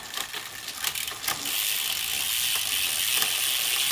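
Freehub ratchet of a Trinx Rapid 2.0 carbon road bike with a Shimano 105 groupset, clicking loudly and steadily, starting as scattered ticks and then settling into a dense, continuous buzz.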